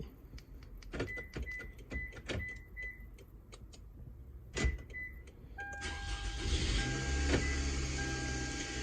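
A car engine cranks and starts up again after a remote start install, following several clicks and relay ticks, then settles into a steady close idle hum.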